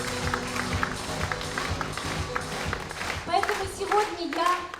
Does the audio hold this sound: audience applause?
yes